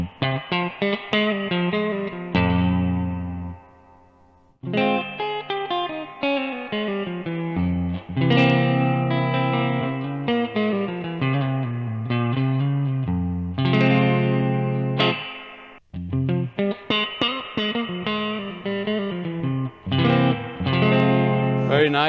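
Spring reverb effect on a clean electric guitar through a Fender-style amp circuit, chords and picked notes ringing out with lush, splashy trailing echoes that fill the gaps between phrases.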